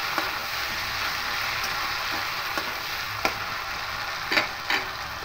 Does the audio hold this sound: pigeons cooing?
no